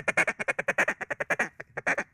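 A duck call imitating a hen mallard's contented feeding chatter, a rapid run of about twenty short, evenly spaced clucks, loud and close, ending with a brief pause and a few final notes.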